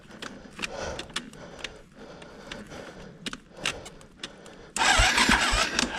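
An enduro motorcycle engine fires up on a DMS battery after a few seconds of cranking and clicking, then catches and runs loudly and steadily to the end.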